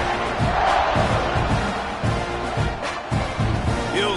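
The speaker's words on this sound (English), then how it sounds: "You think this crowd's going to get loud when their defense comes on the field?" A stadium crowd in EA College Football 26, Texas A&M vs UTSA, roars in broad loud waves with pulsing swells, no talk over it.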